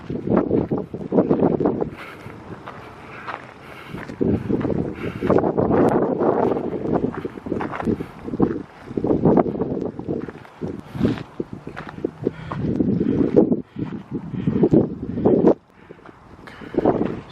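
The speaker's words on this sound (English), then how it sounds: "so the wind is starting to pick up." Wind blowing across an open hillside, gusty rumbling buffets hitting the microphone in loud uneven bursts with brief lulls, plus scattered rustling and crunching movement nearby.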